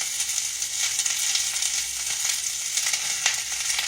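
Hoecake cornbread batter sizzling in a hot skillet, a loud, dense, continuous crackle and hiss close by with small pops throughout and no voices.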